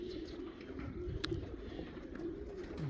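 Racing pigeons coo at a loft in Lithuania, a soft, low, continuous burbling with one brief sharper sound in the middle.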